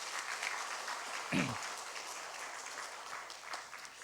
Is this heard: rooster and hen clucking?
no